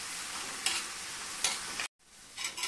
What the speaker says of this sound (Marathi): आता हा छान ट्रान्सपरंट होईपर्यंत आपल्याला परतवून घ्यायचंय.